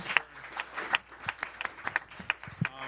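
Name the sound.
audience applause for the speakers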